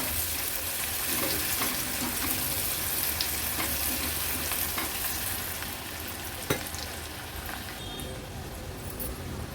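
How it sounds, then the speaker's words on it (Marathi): Chopped onion cooks in hot oil with a dense, continuous sizzle that stays loud and close throughout, broken only by a few faint scrapes and one sharp tap. "कांदा पण छान तेलावर शिजवून घ्यायचा आहे."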